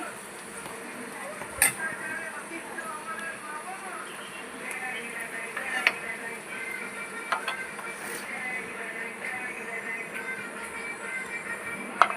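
Egg cheese patties fry in a pan with a steady, close sizzling hiss, broken now and then by small sharp pops and crackles.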